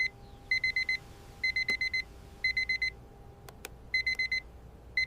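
Alarm clock ringing in rapid bursts of four or five electronic beeps, each group separated by short pauses, loud and close with no voices.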